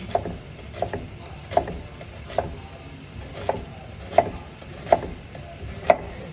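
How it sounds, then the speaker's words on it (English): A knife chops an onion on a cutting board for Jamaican ackees and saltfish. About eight crisp, evenly spaced chops land close by over a low kitchen background, with no talking. "we're going to cut the onion the same way that we cut the peppers"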